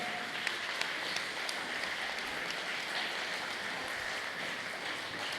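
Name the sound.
audience clapping at a meditation event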